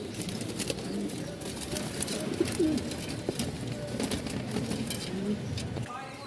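Pigeons coo softly and repeatedly at a pigeon seller's farm among many birds, with low background noise and occasional faint voices.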